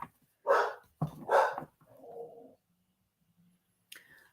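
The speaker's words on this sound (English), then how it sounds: "who are you barking at?" Leo, a pet dog indoors, gives two sharp, loud barks, then a lower grumbling growl and a short final yelp after a quiet pause.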